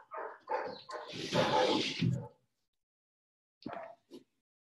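Dogs from a nearby kennel give a few rough barks and yelps, a busy burst followed by silence and then two short isolated yips, fairly faint and somewhat distant.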